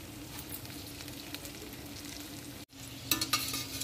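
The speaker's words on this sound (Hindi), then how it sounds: "इस कढ़ाई को टेढ़ा करेंगे। तो इसे देखिए बारी बारी से चारों तरफ ऐसे टेढ़ा कर करके सेकेंगे।" Snake gourd fries in a tilted kadhai, giving a continuous, soft, close sizzle with light stirring scrapes. A brief gap comes near the end before the frying crackle returns a little brighter.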